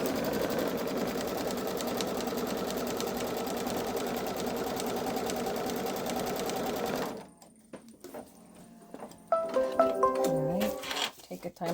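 A Babylock Solaris embroidery sewing machine stitches an in-the-hoop Easter bunny basket piece with a fast, steady mechanical whir, then stops and a few short clicks and beeps follow, with some voice nearby.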